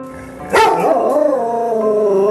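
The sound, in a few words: dog barking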